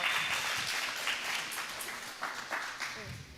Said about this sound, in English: All right, here we go. Round of applause.